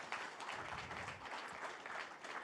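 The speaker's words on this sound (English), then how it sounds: "Give Cullen a round of applause, please." Applause from a town hall crowd in Plymouth, New Hampshire, a steady dense wash of clapping that holds evenly for the full stretch with no voices over it.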